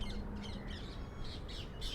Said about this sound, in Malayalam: തത്തകളൊക്കെ ഉണ്ട്, നോക്ക്